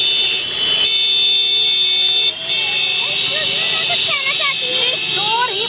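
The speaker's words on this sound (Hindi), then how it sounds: "लोग तेज तेज हॉर्न बजाना शुरू कर देते हैं" Car horns honking on a busy street during a roadside protest: sustained loud, blaring horn tones persist throughout, layered under someone speaking close by.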